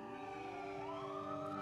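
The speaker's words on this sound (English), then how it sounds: "Siren." A siren-like sound effect within a pop song, with a steady rising and falling wail layered over sustained musical tones, loud and continuous throughout.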